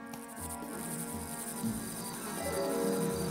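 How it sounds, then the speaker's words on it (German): A dense, steady buzzing and whirring of a swarm of locusts fills the air, constant and shrill, with no pauses. "Und dann kamen die Heuschrecken"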